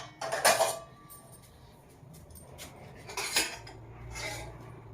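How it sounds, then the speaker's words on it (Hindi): Dishes, pots and pans being washed at night, with sharp metallic clinks and clatters of utensils in a few bursts, close by, separated by quieter rubbing and background hum, no talking. "बर्तन धो हूँ"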